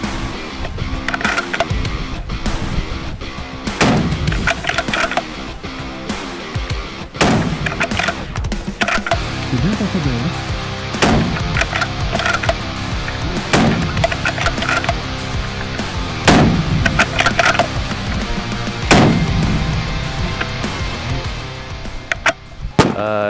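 Rifle shots at a sniping competition held for Independence Day, including shooting at moving targets, ring out as repeated sharp loud cracks spaced irregularly across a busy outdoor background.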